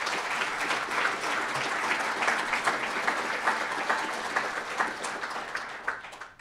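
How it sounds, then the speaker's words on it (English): Audience applause for sponsors at a talk about Gin, a sustained crowd of hands clapping at a steady level and tapering off near the end, with no voices. "give them a round, you know, round of applause, please"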